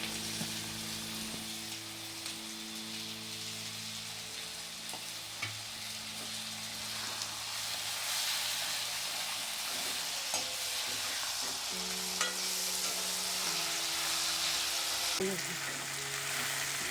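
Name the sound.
frying chopped tomatoes for masala upma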